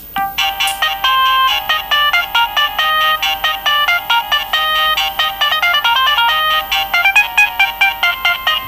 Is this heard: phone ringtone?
yes